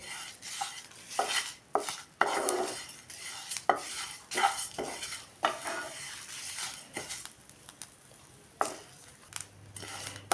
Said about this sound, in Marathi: ह्याच्याबरोबरच हे मीठ पण भाजून घ्यायचं आहे